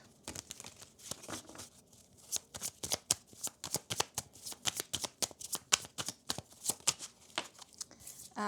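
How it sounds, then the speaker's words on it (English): A deck of tarot-style reading cards being shuffled by hand gives steady, rapid riffling and crisp flicking bursts in close, moderately quiet succession with no talking. "And I was shuffling the wrong deck, by the way."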